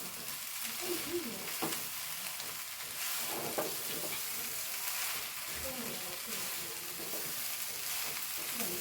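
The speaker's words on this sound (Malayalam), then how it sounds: "ഒന്ന് ഇളക്കി കൊടുക്കാം കേട്ടോ" Colocasia leaf thoran sizzles in a pan while being stirred, a continuous crackling fry with occasional soft scraping strokes, fairly close but not loud.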